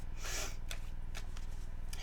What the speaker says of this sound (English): I'm going to do a really thorough shuffle